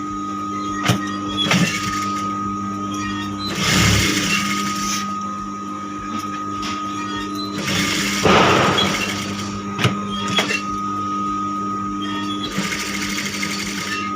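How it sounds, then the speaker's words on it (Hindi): Sewing machine stitching a princess-cut kolor-design blouse, running in several separate bursts of rapid whirring stitches with short pauses between, close and steady, with no talk. "यहाँ से भी हम सिलाई करेंगे।"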